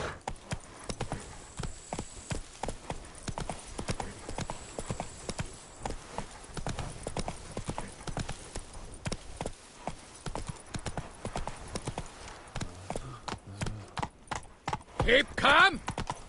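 A horse gallops in The Witcher 3: Wild Hunt, its hooves clip-clopping in a fast, continuous rhythm that swells louder near the end over faint game ambience.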